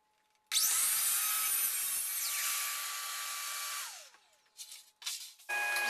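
A power saw cuts wood for a picture frame display's dust cap and mantle shelf: a loud, close whine that spins up, runs steadily for about three and a half seconds, winds down, then gives way to a few knocks.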